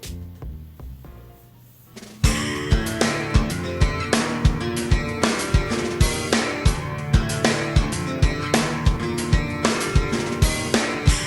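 A song plays loudly. A quiet, sparse intro gives way to a full band with a steady, punchy drum beat and dense guitars.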